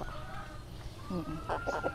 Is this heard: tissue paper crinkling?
no